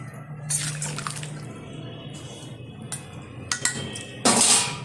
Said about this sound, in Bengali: ঢেলে দিচ্ছি ভেজে রাখা সাইটিং মাছ। একটু নাড়িয়ে দিচ্ছি।